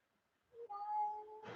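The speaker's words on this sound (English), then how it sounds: "did you hear the cat?" A cat cries indoors in one drawn-out, rising meow that swells and holds for about a second, close and fairly loud, then breaks into a sudden burst of noise at the end.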